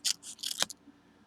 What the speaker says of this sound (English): I can just go behind with my scissors